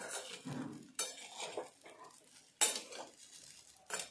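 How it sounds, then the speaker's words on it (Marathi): Sabudana khichdi is mixed in a pan, making bursts of metal spoon scraping and clinking against the cookware in several distinct strokes, close and moderately loud, with no talking. "आपण आता इथे हे याला छानपैकी मिक्स करून घेणार आहोत।"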